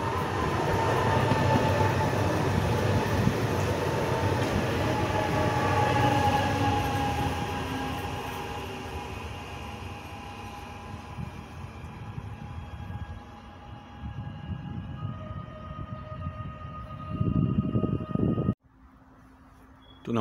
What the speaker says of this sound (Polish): wjeżdża skład z kontenerami do przewozu koksu i Inofreight